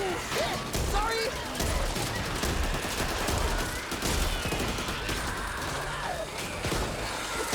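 Sustained bursts of rapid gunfire and crashing impacts fill a frantic Back 4 Blood firefight, loud and nearly unbroken, with in-game character voices mixed underneath.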